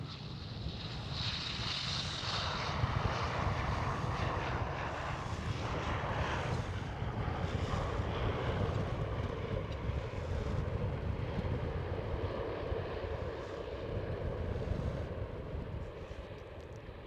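A KLM Cityhopper Embraer E190 jet passes at Amsterdam Schiphol airport as a steady, loud engine roar mixed with wind noise, holding level throughout with no voices.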